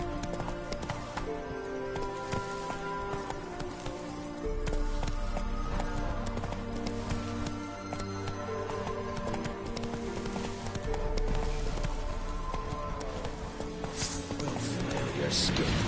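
Horse hooves clopping in a steady galloping rhythm from a PS4 video game, running continuously under a busy layer of game music and effects, with people talking over it.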